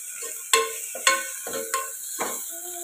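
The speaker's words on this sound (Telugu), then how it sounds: "ఇప్పుడు ఇది పచ్చివాసన పోయేదాకా ఫ్రై చేసుకోవాలి" Ginger garlic paste fries in a pan for mutton curry, a soft sizzle broken by four or five sharp scraping stirs of a spoon against the pan, close and clear.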